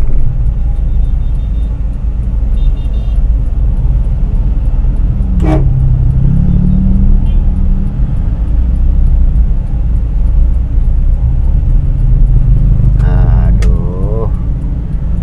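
A car fitted with a clurit distributor rotor cruises in fourth gear on a test drive. Its engine gives a constant loud rumble with road noise, a brief horn-like tone rises twice, and people talk inside the cabin.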